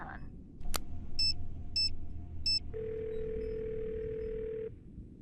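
Phone ringing in a Nancy Drew mystery game, Ghost of Thornton Hall: three short electronic ring bursts, then a steady tone lasting a couple of seconds, clear over a quiet background.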